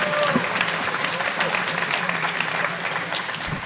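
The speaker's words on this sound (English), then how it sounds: "Give her a round of applause." Applause from the audience at a 2018 high school commencement ceremony, moderately loud continuous clapping in a large space with crowd murmur mixed in.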